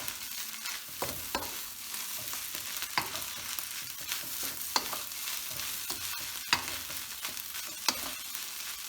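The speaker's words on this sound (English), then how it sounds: "we're just going to fry that in" Rice seasoned with MSG sizzles and fries steadily in a hot pan, with a constant bright crackle and occasional sharp scraping stirs, close and even throughout.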